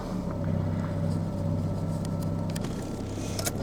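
An MGB GT engine hums steadily from inside the cabin while driving, a low droning rumble with faint road noise and a few small clicks, no talking.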